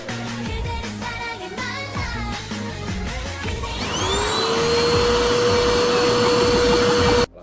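A vacuum cleaner starts up partway through over background music, and its motor whine quickly climbs to a high steady pitch. It runs loud and continuous for a few seconds, then cuts off abruptly.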